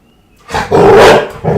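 A six-month-old puppy lets out one loud, close, roaring bark that drawls into a growl, followed by a shorter second burst, with no talking.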